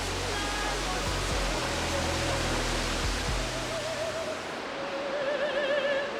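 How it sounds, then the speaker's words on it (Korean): Veliki Slap, the tall waterfall in Croatia where dozens of streams pour down, roars as a dense, continuous broadband rush of falling water, steady and enveloping with no pauses. "수십 갈래로 쏟아져 내리는 물줄기가 큰 폭포라는 이름처럼 보는 이들을 압도한다"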